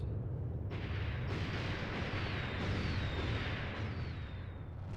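A rocket barrage in the war strategy game Order of War lands as a dense, continuous roar of overlapping blasts and deep rumble, loud and sustained with no pauses.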